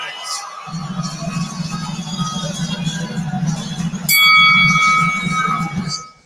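A boxing bell rings to end the round at a fight, clanging over a loud, steady crowd roar that swells as the bell sounds and then fades out.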